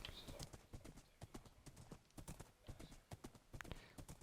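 Rapid, steady clip-clop of horse hooves on a hard surface, a brisk rhythmic trot, fairly close and quiet.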